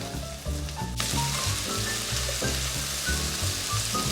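Sliced peppers, including red chilies and Cheongyang peppers, stir-fry for gochu japchae in a hot pan, giving a steady, close sizzle with scraping stirs. Music plays underneath.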